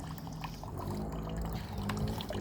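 Small garden water feature trickling steadily nearby, a soft continuous pouring and dribbling of water at low volume with no other prominent sounds.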